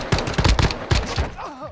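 Gunfire in Call of Duty DMZ, a few loud, close, rapid shots in two short clusters, followed by a fading ringing tail.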